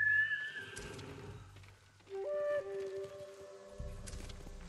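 A horse in the video game Ghost of Tsushima gives a high whinny, followed by scattered clattering and a short whistle-like tone in otherwise quiet surroundings.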